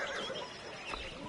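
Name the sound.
horse neighing in the video game Pentiment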